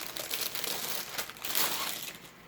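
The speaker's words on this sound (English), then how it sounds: "this pack of, I think they're like PVC mesh zippered bags" A plastic pack of PVC mesh zippered bags being handled, giving a close, continuous crinkling and crumpling with small rustling bursts, no voices.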